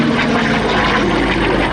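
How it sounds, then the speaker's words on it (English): FG-1D Corsair warbird rolling overhead at an air show, a loud throbbing propeller-engine drone filling the whole short stretch with no talk. "FG-1D Corsair. Another graceful, beautiful barrel roll being performed"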